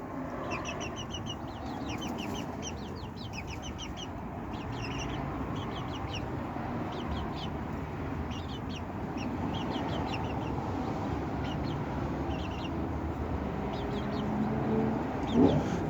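Quails in a garden enclosure give repeated soft chirping and clucking calls over a steady outdoor background hum, moderately near and continuous throughout.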